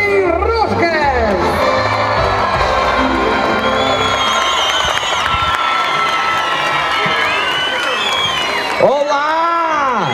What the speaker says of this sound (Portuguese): Un vosso forte aplauso para Zeca Estacionácio e Kim Rosca!